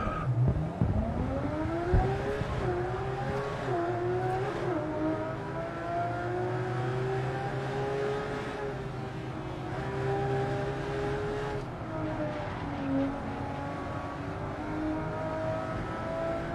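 A Porsche GT3 race car in a racing video game revs hard and holds a steady, rising engine note, with harmonics sweeping upward as it accelerates, loud and continuous for the whole stretch, without talk.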